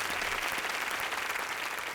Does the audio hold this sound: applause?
yes